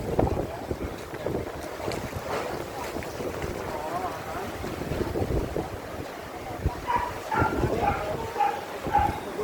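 Strong sea waves surge against the boulevard in Molo, Iloilo City during flooding, a steady windy roar of churning water with wind buffeting the microphone, a dog barking briefly and someone talking over it.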